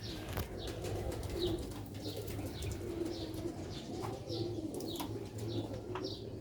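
Black-faced Sialkoti pigeons coo in a low, repeating murmur over a steady background, with occasional soft chirps and wing flicks throughout.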